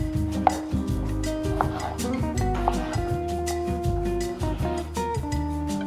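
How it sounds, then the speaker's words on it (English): Knife chopping small red potatoes on a board, a quick series of firm, close thuds in uneven rhythm, with no talking. "This one's a little bit bigger, so I'm going to cut it into each side into 6 pieces, so 12 total."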